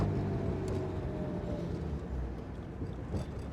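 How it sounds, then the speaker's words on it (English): A 1967 Jaguar E-Type Series I engine drones steadily while driving, a constant low rumble with faint harmonic whine, close and continuous with no voices. "Boy, the sound of this car."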